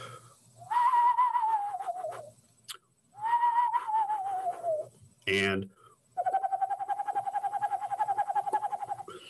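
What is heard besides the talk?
eastern screech owl calls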